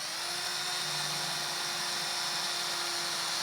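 A power drill drilling a pilot hole whines steadily at close range, a continuous high-pitched buzz that holds throughout without stopping.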